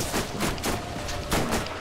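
Rapid rifle fire in Borderlands, a steady run of close, loud shots pulsing in quick succession over a dense backdrop of game noise.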